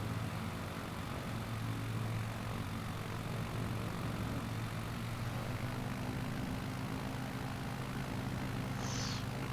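A Piper propeller airplane taking off in Microsoft Flight Simulator 2020 makes a steady, loud droning engine and propeller roar that holds constant throughout.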